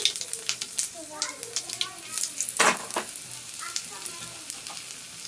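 Mustard seeds, cumin and chilies frying in hot oil in a pan, a crackling, spitting sizzle with frequent sharp pops, close and fairly loud, while a voice speaks faintly in the background.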